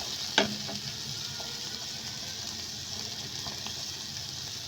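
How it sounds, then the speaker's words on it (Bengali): Chopped vegetables, including beans, frying in a pan for vegetable fried rice make a soft, continuous sizzle, with a quick clink or stir near the start and light scraping stirs throughout. "এগুলো ভাজা হয়ে গেলে আমি বাকি সবজিটাও ভেজে নিব"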